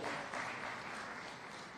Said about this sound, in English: Please clap for our Speaker.